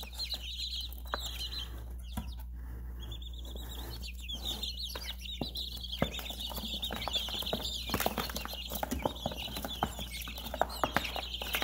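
Young broiler and layer chicks, three and two weeks old, cluck and peep nearby with frequent short calls, alongside scattered scratching and tapping sounds, steady throughout without talk.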